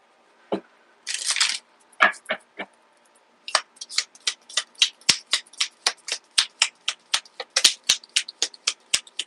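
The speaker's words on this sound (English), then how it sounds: "I'll pull some cards on this real quick" A tarot deck being shuffled with a brief riffle burst, then a long run of quick, crisp card snaps and slides as cards are pulled, close up and steady, no talking.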